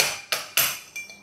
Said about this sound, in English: with any kind of tool, I have a plastic hammer in this case, just